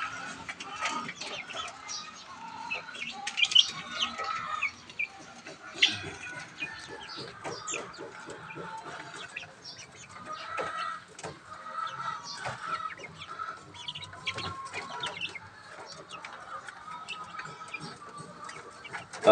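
Young chicks, 32 days old, of a large breed, chirping and clucking inside their coop; a dense, continuous flock of small peeps and calls at close range, with a few louder bursts.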